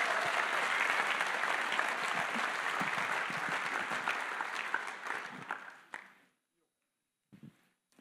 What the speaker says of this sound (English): can we just give them a round of applause, City Hill Church and everyone who volunteered